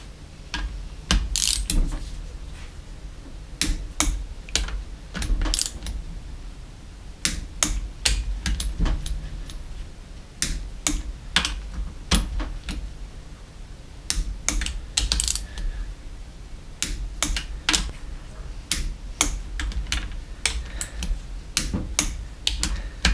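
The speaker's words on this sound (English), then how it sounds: "for the last 27, I've got my big wrench" A big wrench ratchets on an engine nut of a 2003 KTM250SX during a teardown. Sharp metallic clicking bursts come in irregular runs over about twenty seconds, close and clear, with no talking.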